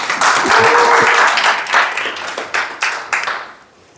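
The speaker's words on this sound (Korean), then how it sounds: "다시 한번 큰 박수로 환영해 주세요." An audience claps loudly in a dense burst to welcome a guest lecturer at a university special lecture, then the applause thins into scattered claps and fades out.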